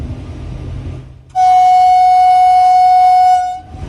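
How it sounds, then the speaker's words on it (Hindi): An Indian Railways train horn sounds automatically near a level crossing: one loud, steady, sustained blast lasting about two seconds, set against quieter running noise from the train. "जैसे ही रेलवे क्रॉसिंग करीब आया, खुद ब खुद हॉर्न बजने लगा।"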